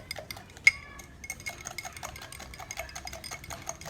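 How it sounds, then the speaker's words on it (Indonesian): A hand egg beater whisks egg in a bowl, making quick, light metallic clinks and rattles in an uneven rhythm with one sharper clank near the start, close and fairly quiet. "Tapi lidinya nggak ada, pakai pengocok telur kayak gini aja nih"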